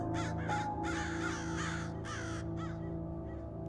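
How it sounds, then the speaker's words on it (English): Several crows caw in short harsh bursts, a flock calling repeatedly and fairly close, over a steady low humming drone in the background. "Your eyes scan the trees, finding hundreds of crows sitting in their boughs."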